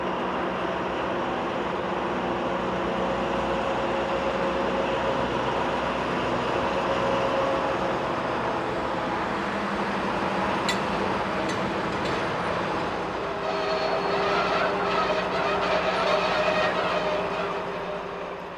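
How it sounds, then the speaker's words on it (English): Freight wagons and heavy Class Am 66 diesel locomotives work a Swiss shunting yard beside the Zurich–Basel main line, a steady loud rumble of rolling stock with squealing metallic tones and a few clanks in the latter half. "All major shunting operations are carried out by the mighty Class AM66 heavy diesel locomotives."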